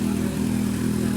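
A Kawasaki Z900 motorcycle with an open SC Project silencer idles with a deep, steady bassy exhaust drone and a faint clattering texture, held close and even for about a second, no speech.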